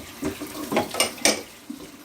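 A bad egg is dumped from a bowl down a kitchen sink, a few short wet splashes and clinks of the bowl against the basin, close and fairly quiet, with no talking.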